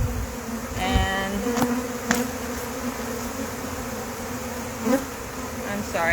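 Agitated honey bees buzzing close by at the hive while the queen is being moved, a constant droning hum with a few louder passes and handling bumps.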